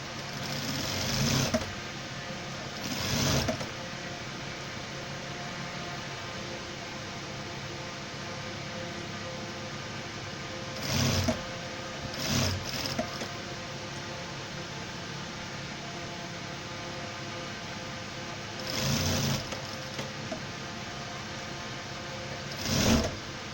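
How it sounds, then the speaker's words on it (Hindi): A sewing machine runs in a steady close whir as it stitches a formal pant leg, broken by several short louder bursts of mechanical clatter and no talking. "अब जैसे नीचे सिलाई चालू हो रही है तो घुटने तक आपको कुछ नहीं करना है ना, बस सिलाई लगाते चल जाना हल्के हाथ से।"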